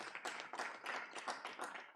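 Applause from an audience at a formal gathering, many hands clapping in a dense, steady patter that swells in waves over two seconds, with no voices over it.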